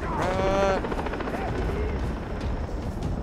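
A helicopter in the video game Far Cry 3 thrums with a low, continuous rotor drone, loud and close, while a player's voice talks over it.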